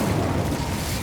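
An Incendio fire spell bursts in Hogwarts Legacy, a short, dense, roaring blast of flame that fills the whole moment at an even, moderately loud level.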